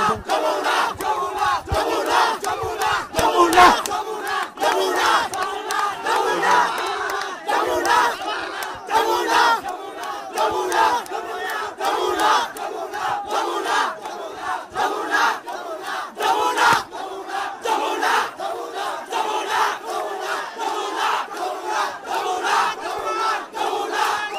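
A dense crowd chants slogans in loud, rhythmic bursts with no break, many voices shouting together at Ganabhaban while people carry off furniture and belongings.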